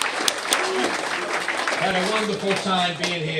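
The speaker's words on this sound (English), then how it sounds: "Give yourselves a round of applause, man." An audience at a comedy-style talk on addiction and recovery claps and cheers in a sustained burst of applause while someone speaks over it.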